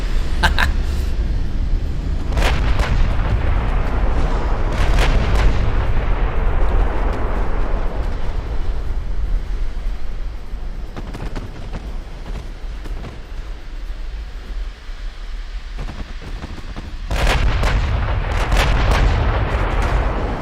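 Main and secondary guns of a warship fire in a naval video game, heavy booming salvos and clusters of sharp reports over a low rumble, loud and repeated with brief lulls.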